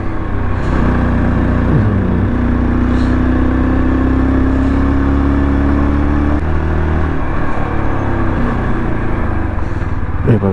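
A motorcycle on a Mumbai to Leh-Ladakh ride, on the road toward Pangong, drones loudly and steadily at full throttle in fourth gear, then its pitch shifts as it drops into third, with wind rush throughout.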